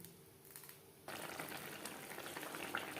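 Gravy with flat beans simmering in a pan, a soft bubbling and popping that grows louder and denser after the first second, close and steady with no talking.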